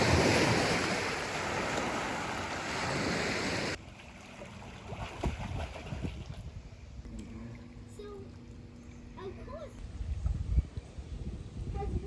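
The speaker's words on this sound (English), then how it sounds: "We're finally at the beach" Ocean surf rolling onto a beach, a loud wash of waves with wind buffeting the microphone, then quieter water with voices talking over it.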